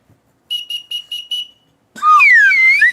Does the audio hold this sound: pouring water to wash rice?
no